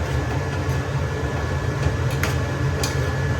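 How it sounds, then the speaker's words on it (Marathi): A kitchen chimney exhaust hood runs with a steady loud low drone and whooshing airflow, a few faint clicks on top, no speech. "हा आवाज ॲक्च्युली चिमणीचा आहे."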